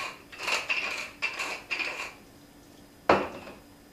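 Green onions going into a pot of mashed potatoes, a few close clinks and taps of a utensil against the pot in quick succession, then a pause and one sharper knock, all fairly soft.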